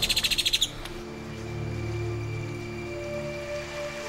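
A bird chirps in a quick run of about eight sharp, evenly spaced notes near a beach room in Central America, then falls silent as a low steady hum continues.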